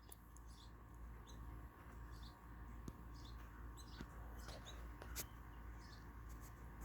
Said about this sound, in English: I'm feeding the birds, the goldfinches mainly.